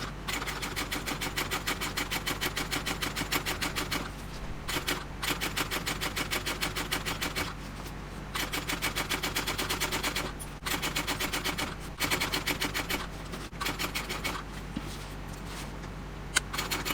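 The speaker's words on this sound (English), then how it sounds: "Back stitching over that seam." A sewing machine back stitching over a seam on a handbag, running in a rapid steady rattle for long stretches with a few short pauses, loud and close.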